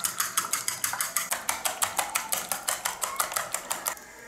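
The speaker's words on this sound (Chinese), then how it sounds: "用筷子搅匀" Eggs beaten with chopsticks in a bowl for steamed egg, a fast steady clatter of about twenty crisp strikes against the bowl, close and clear, before stopping abruptly.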